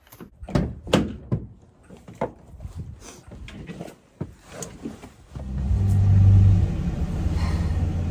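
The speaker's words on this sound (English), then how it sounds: "So I started the truck" A truck engine cranks and catches about five seconds in, settling into a loud, low idle rumble after a series of knocks, thumps and door sounds nearby.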